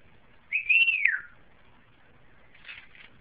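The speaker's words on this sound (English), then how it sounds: "Look at that pretty bird." A blue pet talking bird gives one clear, bright whistled note that rises and then slides down, followed by a couple of faint chirps in an otherwise quiet room.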